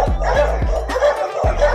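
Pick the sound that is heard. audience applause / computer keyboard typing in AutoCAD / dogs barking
dogs barking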